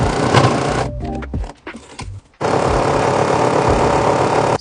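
A sewing machine stitches ribbon casing, a loud steady motor whir that runs, breaks off into a short quiet gap with small clicks, then resumes at full drive for several seconds.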